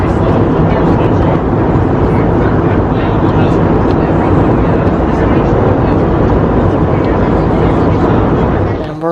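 Steady, loud broadband roar of an airplane cabin in flight on the way home before landing, a continuous engine and airflow rumble with no change in level.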